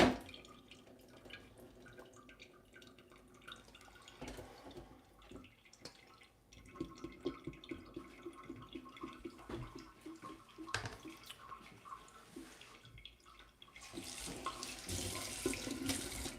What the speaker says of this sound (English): So right now I'm just gonna drain off this water.